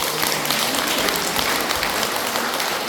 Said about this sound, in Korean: 정말로 여러분 박수를 치고